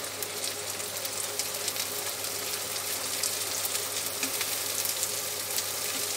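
Multicoloured peppers and onions frying in a pan for tomato-sauce lasagne, a steady close sizzle with dense crackling and hiss throughout, no voices.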